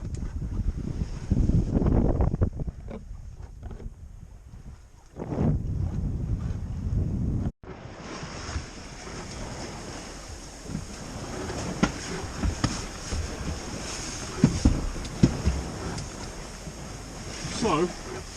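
A boat under way at sea, moving at around 5.5 to 6.8 knots off Alderney as the tide turns, with steady wind buffeting the microphone and broad wash of water and waves, occasional louder gusts and splashes throughout.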